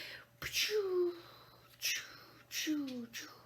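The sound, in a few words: voice imitating rocket noises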